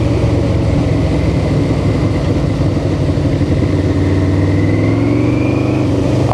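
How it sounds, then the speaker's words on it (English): A Yamaha V-Max 1200cc motorcycle engine rumbles loudly and steadily up close, its pitch gradually climbing as it revs higher. "let's get some engine noise"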